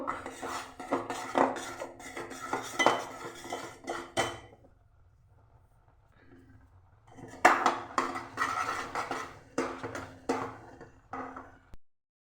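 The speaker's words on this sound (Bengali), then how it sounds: "আমি একটু একটু করে চালের গুঁড়ি দিয়ে ফুটন্ত জলের মধ্যে দিয়ে ভালো একটা ডো তৈরি করে নেবো" Rice flour being worked into boiling water in a pot to make dough, heard as clattering scrapes and knocks of a utensil against metal in two bursts separated by a few seconds of near silence.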